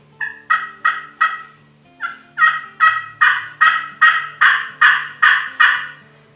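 An Enticer turkey call, a handheld waterproof hunting call, sounds a loud, close series of about thirteen sharp turkey yelps in steady rhythm, three at first, then a longer run after a short pause.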